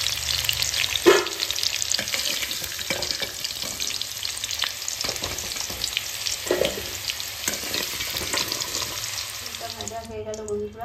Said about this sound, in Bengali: তো বন্ধুরা দেখো আমার আলুটা ভাজা হয়ে গেছে। এখন আমি আলুটা তুলে নেব।